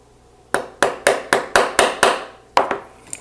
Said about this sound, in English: this time, we're just going to hammer it back in.